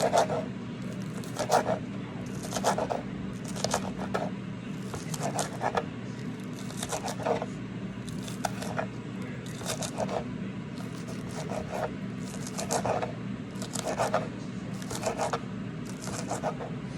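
Green onions being chopped on a cutting board, a series of soft, quick knife taps in irregular bursts over a steady background hum, fairly faint, with no talking.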